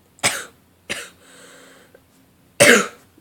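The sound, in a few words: cough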